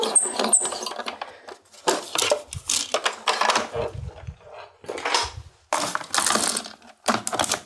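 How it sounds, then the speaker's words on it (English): A die cutting machine running a letterpress plate through, uneven bursts of grinding clatter and clicks broken by short pauses, close and moderately loud. "I have my die cutting machine, sending it through."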